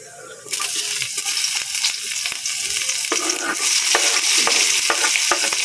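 Sliced onions tossed into a pan of sautéing garlic: a loud, steady sizzle from close by, broken by repeated scraping stirs, with no one talking.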